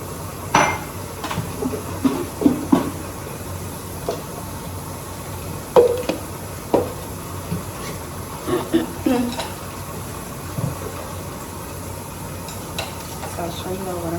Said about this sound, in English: I actually ran some water last night because I did not wash my dishes, so I'm just moving everything out.